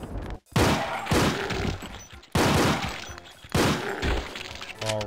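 Super shotgun blasts in Doom's Plutonia, four loud booming shots spaced about a second apart, each with a short decaying roar and a mechanical reload clack near the end.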